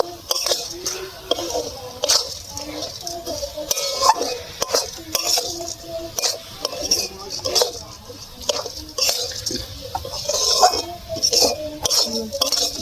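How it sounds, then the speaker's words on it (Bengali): Fried flattened rice (chire) being stirred in a pan, a busy run of scraping and clinking strokes from utensil against metal, with someone talking over it. "এবার চিড়েটা এইভাবে নাড়তে হবে।"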